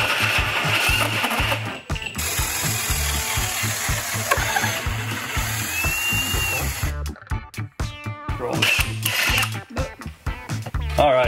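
Power drill boring a hole through a clamped wooden board for a kids' charcuterie board build, whirring in repeated pulses with brief stops, loud and close, while people talk in between.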